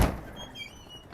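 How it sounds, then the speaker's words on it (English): A door at a house closes with a single heavy thump at the start, followed by a faint fading room tail. "this door tends to slam"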